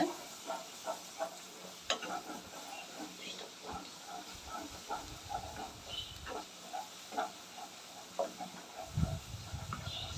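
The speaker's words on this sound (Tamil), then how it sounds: "நீங்கள் கைவிடாமல் கலரிட்டே இருங்க" A roasted gram (pottukadalai) sweet mixture thickens in a pan while a spoon stirs it steadily, giving continuous soft scraping and light sizzling with repeated stirring strokes close by.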